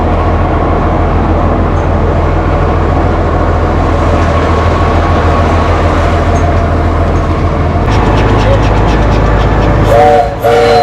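Tourist train of the Superstition railroad at Goldfield Ghost Town, Arizona, rolling along with a steady loud rumble and rattle of cars, then a brief horn-like tonal blast near the end, with faint voices nearby.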